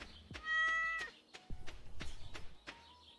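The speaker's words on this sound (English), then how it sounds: "Well, there's our cat." A pet cat lets out a clear, fairly close meow with a bright harmonic tone, then several short clicks, thumps and soft movement noises follow. No one speaks.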